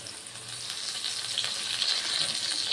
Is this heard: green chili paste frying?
yes